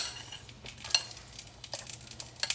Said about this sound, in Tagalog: Mix your corned beef. Mix with the egg.